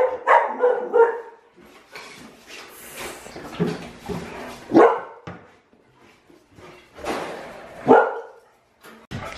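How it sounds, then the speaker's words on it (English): A Bernedoodle or Bernese Mountain Dog barks indoors in several loud, close bursts spread across the stretch, with someone talking briefly at the start. "if you can't tell by the barking that she loves to eat"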